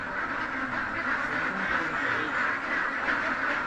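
Layer ducks quacking together at a duck farm in Victoria, Laguna, a dense, continuous chorus of many overlapping quacks close by, with no talking.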